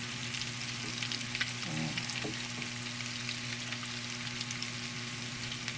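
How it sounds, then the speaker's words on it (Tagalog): Garlic frying in butter gives a soft, steady sizzle with a few light stirring touches, quiet and close, no voices. "Lagyan na natin guys yung bawang."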